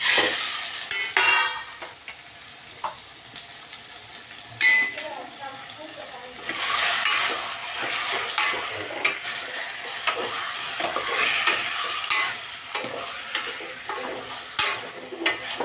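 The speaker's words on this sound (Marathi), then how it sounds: "टमाटे कांदा आणि टमाटो चांगलं तळून घेतले बघा आता आपण हे चिकन टाकून घेऊ" Chicken pieces dropped into hot oil with fried onion and tomato for a spicy Maharashtrian chicken rassa, sizzling steadily with stirring clinks and scrapes throughout, close up, with a voice talking at times.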